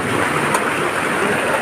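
Steady rain falls near a roadside mutton hotel, a dense continuous hiss that is loud and close, with no voices over it.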